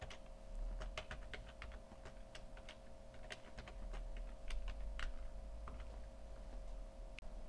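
Rapid keyboard typing on a computer while writing a script in Final Draft, quick irregular key clicks in bursts over a low steady hum, close and fairly quiet with no speech.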